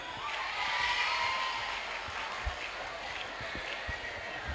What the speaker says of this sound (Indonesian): Ini seperti acara Indonesian Idol aja nih soraknya.